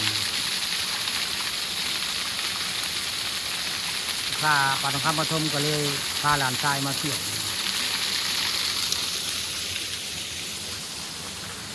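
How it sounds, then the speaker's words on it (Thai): A steady rushing roar of a waterfall inside a cave at Wat Phu Bian temple, constant and enveloping beneath someone talking in the middle of the clip. "ถ้ำน้ำตกสวยงามในวัดภูเบี้ยน"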